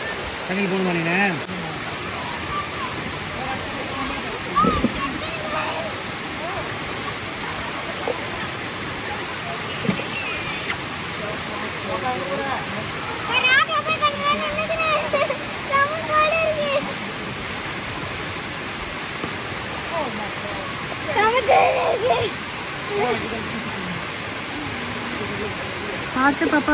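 A waterfall in America rushes in a steady, loud roar that lasts throughout, while people talk nearby and a few brief voices rise above the noise.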